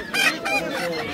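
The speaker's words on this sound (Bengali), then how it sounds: "মুরগির বাজার।" Chickens and ducks call at a busy morning poultry market in Bangladesh, a quick burst of loud, close honking and clucking over a short stretch.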